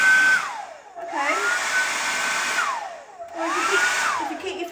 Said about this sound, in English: It's a functional hairdryer.